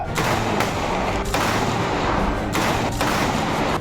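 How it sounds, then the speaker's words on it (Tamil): Police guards fire a rifle volley in a 21-gun salute at a memorial ceremony in Sriperumbudur, Kanchipuram district, with several loud, sharp cracks echoing through the clip and no voices over them. "9 காவலர்களுக்கு 21 குண்டுகள் முழங்க"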